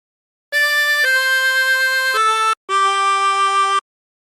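Four sustained, reedy notes on a 24-hole tremolo harmonica played one after another in a short slow phrase from Amazing Grace, clear and close with no other sound.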